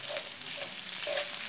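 Rice cooking in a pan as broth is added, sizzling and frying in a steady hiss that runs throughout, with a few brief louder bubbling bursts, close and fairly quiet, no talk.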